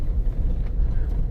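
A Force Gurkha's exhaust note from the silencer gives a steady, deep, low rumble that stays loud and even throughout, with no talking over it.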